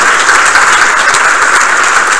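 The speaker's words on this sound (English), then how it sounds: "I know we've just given you a round of applause" An audience claps after a conference talk, a loud, dense, steady applause that fills the whole stretch without a break, with no voices over it.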